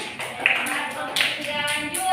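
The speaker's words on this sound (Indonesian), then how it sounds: "Tepuk tangan buat kelompok 3." Classroom students clap for a group of classmates in a short, moderately loud burst of applause with a few sharper claps standing out and faint talking underneath.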